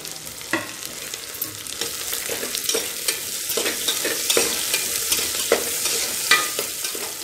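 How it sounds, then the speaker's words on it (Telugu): Onions stirred in a hot pan while cooking a jackfruit biryani with brown rice; a steady sizzle broken by regular scraping and clacking spoon strokes, close and clear, no voices. "ఆనియన్స్ కానీ వేసేసుకొని మంచిగా కలిపేసుకుందాం మనం ఇప్పుడు"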